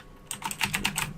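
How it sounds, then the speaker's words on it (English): Close, rapid clacking of keys on a mechanical-switch keyboard, a quick burst of a dozen or so crisp strokes in an irregular rhythm. "you can hear that's what it sounds like on the keyboard. Just, yeah, mechanical switches, baby."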